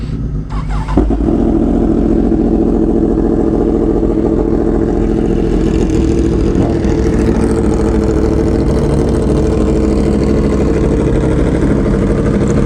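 A Yamaha R6 motorcycle engine runs steadily throughout at a loud, close idle with a dense low rumble, a slight rev near the start, and no talking.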